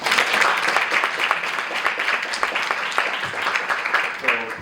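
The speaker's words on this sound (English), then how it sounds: "Please give her a round of applause." Audience applause for a community advocate at a live basketball legends event in Tampa, a steady wash of clapping held throughout with some voices mixed in.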